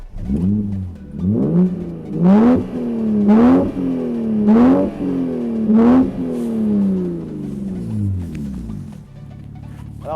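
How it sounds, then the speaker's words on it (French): The warm inline six-cylinder engine of a 1987 BMW E30 325iX revs repeatedly, rising and falling about six times in quick succession, loud and close, then settling to idle. "maintenant on va écouter ce magnifique 6 cylindres en ligne"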